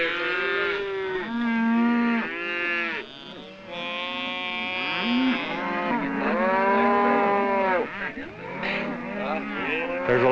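Cattle bellow and moo repeatedly on an Arizona range, loud and near, long overlapping calls from several animals with barely a pause between them.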